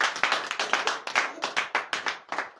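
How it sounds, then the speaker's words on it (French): A church congregation at morning prayer in Benin claps in praise of Jesus. Close, clearly separated hand claps come in a brisk, steady rhythm of roughly five per second with no talk over them. "Donnez l'acclamation à Jésus."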